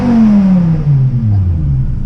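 A straight-piped BMW E60 M5 engine lets out a loud, close rev that winds steadily down in pitch over a couple of seconds, a raw, droning exhaust note with no voices.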